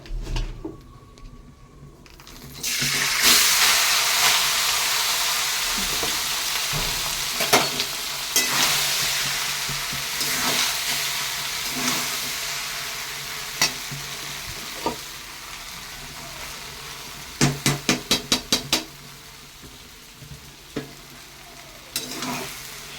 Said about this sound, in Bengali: এবার আমি চালগুলো দিয়ে দেবো।